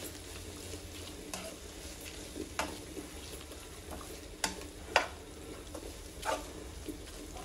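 Soya chunks pulao being stirred in a pan with a spoon: a handful of distinct scraping strokes over a faint steady sizzle, close and fairly quiet, with no talking.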